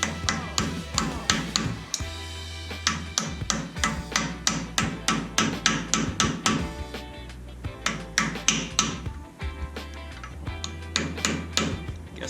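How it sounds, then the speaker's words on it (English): Repeated sharp knocks from a piece of soft wood used as a makeshift mallet on an old boat outboard motor. The strikes come close and loud in steady bursts, with brief pauses between runs. "try to hammer that in just a little"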